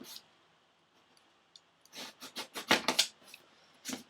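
An X-Acto blade scores grout lines into foam for cemetery columns, a quick run of close, dry scratchy strokes after a quiet start, followed by one more stroke near the end.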